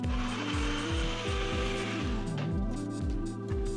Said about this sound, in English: we're just gonna blend until it's completely smooth or as smooth as your blender will allow